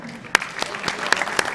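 An audience at a data science workshop claps in a brief burst of applause, a short patter of close hand claps with a few sharper individual claps standing out.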